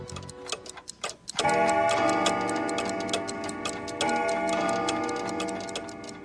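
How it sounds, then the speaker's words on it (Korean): A clock ticks steadily in a quiet room, then begins striking three in the afternoon, its ringing chime sustained and resonant over the continuing ticks. "시계가 오후 3시를 치기 시작했다. 조용한 방 안에서 갑자기 시계가 소리를 내자"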